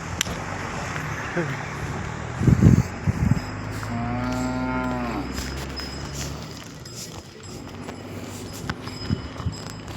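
A bull lowing once in long harmonic moos at an open cattle market in the morning, over steady crowd murmur, traffic and footsteps, with people talking nearby.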